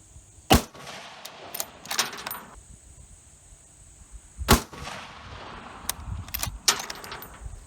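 Remington .308 rifle firing 125-grain hand loads outdoors: two sharp, loud gunshot cracks several seconds apart, each followed by metallic clinks and rattling handling noises.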